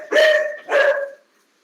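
A dog barks twice at home during a live-streamed talk, two loud close barks in quick succession, then silence.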